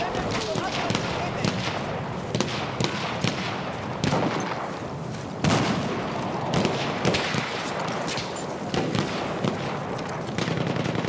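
Rapid battlefield gunfire and thudding detonations in the World War I shooter Battlefield 1 during a Rush match, dense and continuous with sharp cracks and booms throughout.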